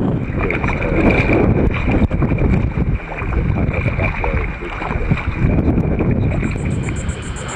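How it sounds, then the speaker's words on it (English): Strong wind buffets the microphone in loud, rushing gusts that rise and fall, with water movement beneath and a faint high tone near the end, on a fishing tour near Mosquito Lagoon. "It's been so goddamn windy today."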